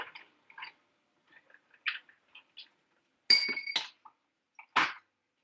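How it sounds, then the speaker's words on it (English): A spoon stirs a tonic cocktail in a glass, giving a handful of light, scattered clinks and one brief ringing chime, close and quiet with silence between. "So we can stir this around a little bit."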